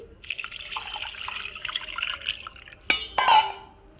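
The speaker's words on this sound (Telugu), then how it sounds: "ఒకసారి వాటర్ అయితే పోసేసుకుని శుభ్రంగా కడిగేసుకోవాలి" Water runs and splashes in a kitchen sink for a few seconds as a pot is rinsed while making ghee, with a couple of sharper clatters of dishes near the end.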